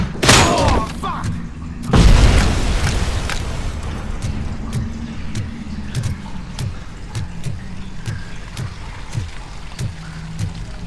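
A frag grenade blast in the shooter game Robocop: Rogue City, a loud close boom that decays into rumble, followed by rapid bursts of gunfire and engine-like drone under a voice speaking.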